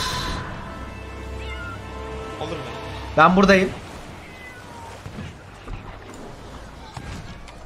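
A cat meows in the pirate video game Sea of Thieves, one short loud cry over a steady background of game sounds, with someone speaking Turkish around it.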